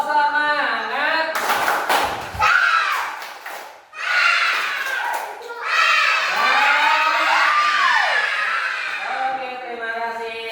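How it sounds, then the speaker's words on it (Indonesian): Children shout and cheer together in a loud, energetic burst, with rhythmic clapping and excited voices over roughly ten seconds, as a spirit clap during a group treasure-hunt activity. "Tepuk semangat."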